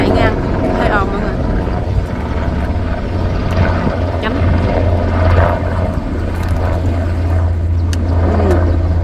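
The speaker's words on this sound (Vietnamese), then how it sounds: "trên trời nó có chiếc trực thăng nó chạy ngang, hơi ồn mọi người." A helicopter passes over an outdoor plum-picking spot, its low rotor thrum steady and fairly loud throughout, with wind noise and people talking over it.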